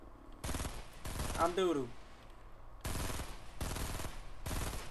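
Bursts of gunfire from a Fortnite match, several loud, broadband volleys a second or so apart with a short gap between, while a player talks briefly over the shooting.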